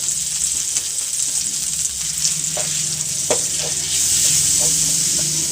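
Flour fried in butter in a pan for a chicken cheese paratha filling gives a steady, close sizzle with occasional soft stirring scrapes and taps, growing slightly brighter toward the end, with no voices.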